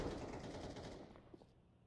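Submachine gun fire in a Counter-Strike esports match, a dense burst of rapid shots that tapers off after about a second, fairly faint and distant, with no voices.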